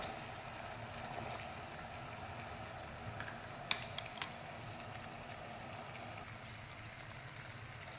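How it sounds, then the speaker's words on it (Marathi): Sugar syrup for Mysore pak simmers in a pan, a faint steady bubbling and sizzle with one brief clink partway through, no talk. "याला उकळी येऊ देत"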